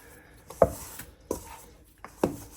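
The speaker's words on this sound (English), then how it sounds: "it's therapeutic for me when I mix dough with my hands" Hands mixing sourdough bagel dough and working in the flour, giving three soft, evenly spaced thumps and squishes up close against a quiet background.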